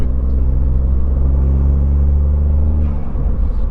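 A Ford Fiesta MK8 ST engine runs on a dyno with a loud, steady rumbling drone that holds for about three seconds and then eases slightly.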